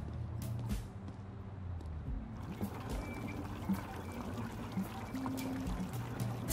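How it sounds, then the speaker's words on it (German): A hand pump drains water in the video game 3 Minutes to Midnight, heard as a steady stream of creaking mechanical strokes over trickling, pouring water, continuous and fairly close throughout. "Dauert das nicht ein bisschen lange, mit der Handpumpe hier das Wasser abzupumpen?"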